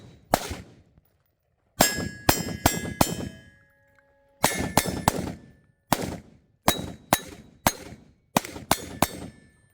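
A Sig Sauer MCX Spear LT short-stroke piston rifle fires about a dozen sharp, loud shots. A single shot is followed by quick groups of two to four, each shot ringing with a metallic clang and decaying between bursts.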